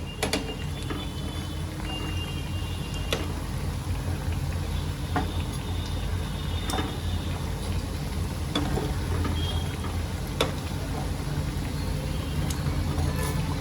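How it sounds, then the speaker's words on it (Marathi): Bhagar (barnyard millet) tikkis fry in oil in a pan, a loud, steady, close sizzle with scattered crackling pops throughout and no talk. "गोल्डन ब्राऊन होसपर्यंत मी याला चांगलं तळून घेते"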